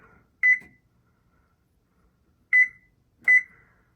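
Three short electronic beeps from an oven control panel as a bake temperature of 400 degrees is set, one early, then a pause before two more close together, crisp and near in an otherwise quiet kitchen.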